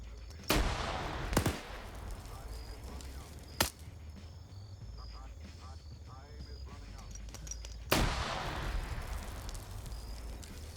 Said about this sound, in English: They're just throwing grenades back because no one can see anything.